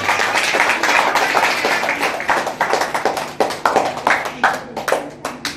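Women applaud at a certificate ceremony for trained young women, a dense, steady patter of clapping hands that thins into scattered individual claps toward the end.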